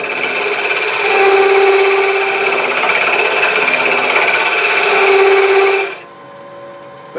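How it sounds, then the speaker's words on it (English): An 8mm box scraper takes a peeling cut on spinning wood on a lathe, a continuous close whirring hum with a rasping scrape layered on top for about six seconds before the cutting stops and only the motor drone remains. "So I'm going to use this initially in a peeling"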